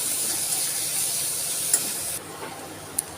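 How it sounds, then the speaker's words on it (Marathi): Asafoetida, salt and chopped coriander sauté in hot oil, giving a steady bright sizzle and hiss that drops in level partway through, with faint clicks of stirring. "हे सर्व साहित्य आपल्याला तेलामध्ये परतून घ्यायचं आहे"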